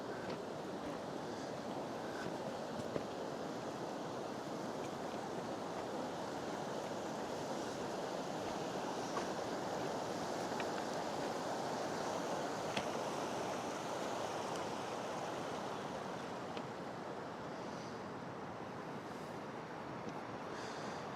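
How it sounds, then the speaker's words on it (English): A river near Gang Ranch rushes past in a steady, dense wash of water noise that holds evenly for the whole stretch, close and continuous with no voices. "Just the river."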